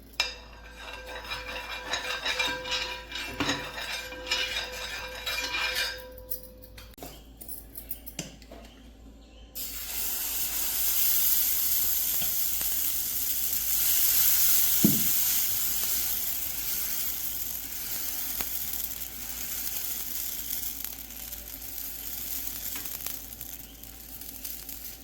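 Oil is poured into a hot pan for onion dosa. A quiet stretch of faint clinks gives way to a loud, steady broadband sizzle and hiss that carries on to the end, close up with no talking.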